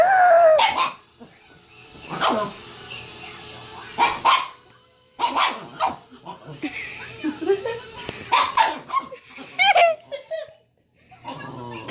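A dog barks and yelps in repeated short bursts at close range while reacting to a mini drone, with people laughing and chuckling between the barks.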